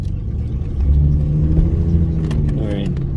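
A Jaguar XJS pre-HE V12 engine with an aftermarket exhaust rumbles loudly with a deep, throaty tone, rising briefly as it revs, while a person talks over it.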